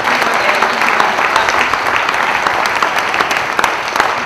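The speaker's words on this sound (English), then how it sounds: "I think you guys deserve a round of applause." An audience at a charity honors event breaks into steady, dense applause that stays loud and even throughout, with no voices over it.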